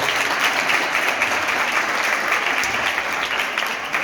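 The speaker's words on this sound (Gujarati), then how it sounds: "જોરદાર તાળીઓ" An audience at a Jain community gathering claps loudly and steadily, a dense, sustained burst of applause filling the hall throughout.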